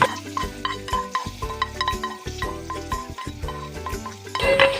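Ingredients hit a pan of fried meat and are stirred, giving steady scraping and clinking strokes of a spoon against the pan in a repeating rhythm over a soft sizzle, close and fairly loud.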